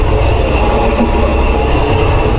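Inside an express train running through Thailand, a loud, steady roar of wheels and carriage rumble fills the space, close and constant, with faint rail clatter underneath.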